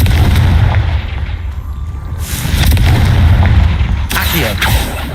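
Confringo fire spell blasts in Hogwarts Legacy gameplay, booming explosive bursts with crackling fiery tails, one around two seconds in and another near four seconds, loud over rumbling game ambience.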